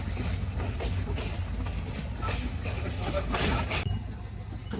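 The Bijoy Express moves off toward Mymensingh after its engine has been turned around, a steady, heavy rumble of rolling wheels and carriages with a few brighter rattles.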